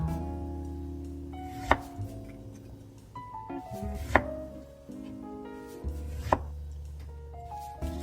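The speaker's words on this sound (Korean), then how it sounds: "대파도 썰어주고요." A kitchen knife chopping green onion on a cutting board, quiet crisp chops in a slow uneven rhythm, close by, with a low background hum and no talking.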